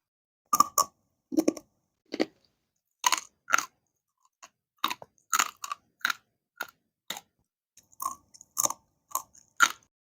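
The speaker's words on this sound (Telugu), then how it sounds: "ఇలా కరకరలాడుతూ చాలా బాగుంటాయి" Crunchy roasted salted green gram snacks are bitten and chewed in close, sharp crunches, about a dozen bursts spaced irregularly with silent gaps between.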